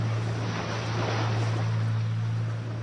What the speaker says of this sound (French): Le moteur ralentit.